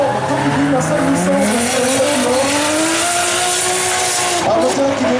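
Drifting rally car with a 500-horsepower turbocharged 2.5-litre six-cylinder engine at a Wallonia rally drift show, roaring loud and close with steadily climbing revs and continuous tyre squeal throughout.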